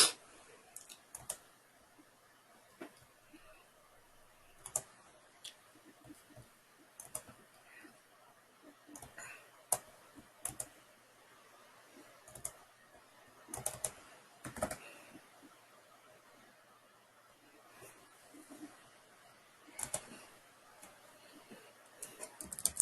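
Keys clatter on a computer keyboard in scattered bursts of quick taps and shortcut presses, fairly faint and close, with pauses between groups and a voice speaking at times.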